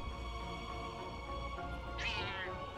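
A unicorn kitty cat in the video game Forspoken gives a single clear meow about two seconds in, rising over a steady bed of game music and ambient hum.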